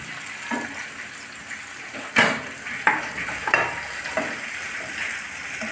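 Chopped tomato and green chillies sizzling in a pan for potol mouri, with several sharp scraping stirs of a spatula over a steady frying hiss.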